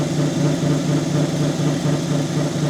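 Lapidary wheel grinding a Missouri agate sample still set in its host rock: a steady, loud droning whir with a low motor hum and constant abrasive rasp, running unbroken throughout with no talk.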